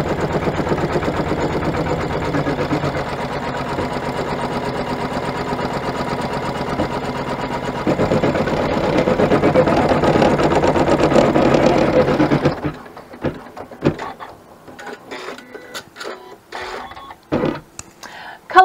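An embroidery machine stitches colorway 4 on an in-the-hoop luggage ID tag, a rapid steady buzzing run for about twelve seconds that then stops, followed by scattered clicks and handling noises.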